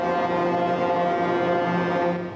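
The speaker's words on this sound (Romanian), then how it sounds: "care și-au adus mașinile de mare tonaj pe străzile din oraș și claxonează neobosit" Heavy trucks at the Ottawa truckers' protest blare their deep air horns in one continuous, loud, droning blast, steady and unbroken with no voices over it.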